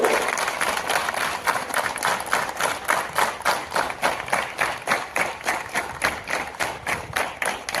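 Applause at a school sports day torch ceremony, with many hands clapping in a strong, steady rhythmic unison, like a crowd keeping time together.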